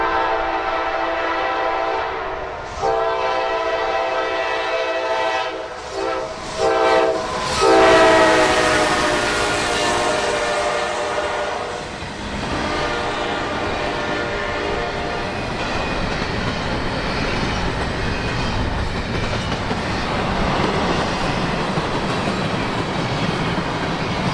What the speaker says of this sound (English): we saw an intermodal train often referred to as the Crowley Express